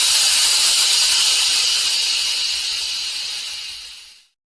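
A steam hiss sound effect: one loud, steady broadband hiss that holds for about four seconds, then fades and cuts off cleanly to silence.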